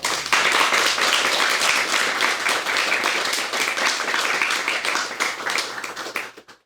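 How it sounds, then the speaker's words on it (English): Sustained audience applause and clapping after a reading at a zine fest, dense and steady throughout, then tapering off sharply at the end. "another round of applause"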